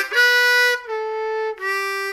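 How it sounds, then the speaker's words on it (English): Blues harmonica lick in third position, lower octave: a sustained 3-hole draw note bent down a whole step, then a steady 3-hole blow note, played solo with clear, loud reedy tones. "melody that goes 3 draw whole step bend, 3 blow, and it should sound like this"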